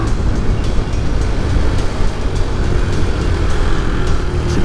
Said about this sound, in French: Il est péchu ce petit moteur